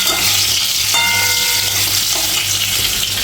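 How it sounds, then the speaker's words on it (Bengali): Potato pieces fry in hot oil in a home kitchen for a meat dish, a loud, continuous sizzle with stirring clatter and a brief ringing clink of a utensil against the pan. "আলুটা একটু ভেজে নিচ্ছি"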